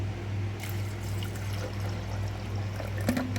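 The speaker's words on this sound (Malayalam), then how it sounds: "ജ്യൂസറിലേക്ക് തന്നെ മാതളം ഇട്ടിട്ടുണ്ട് അതിലേക്ക് പാലൊഴിച്ച് കൊടുക്കണേ" Thick milk pours into a juicer jar holding pomegranate, a soft, continuous trickling stream heard close up over a low steady hum, ending in a faint clink.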